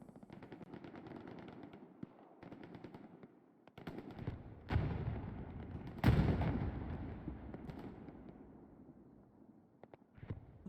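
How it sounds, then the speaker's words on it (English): Tank cannon fire and gunfire in the Hell Let Loose battle game: scattered bursts of shots, then two heavy booming blasts that ring and fade, all fairly distant. "Big hits from the tanks."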